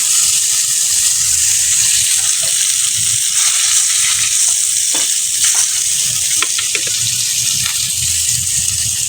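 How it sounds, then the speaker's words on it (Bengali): Fish frying in a pan of oil, a loud continuous sizzle and crackle close by with faint scraping now and then, no voices. "দেখেন আমি মাছটা ভাজলাম, কিন্তু একটুও কিন্তু ভাঙেনি।"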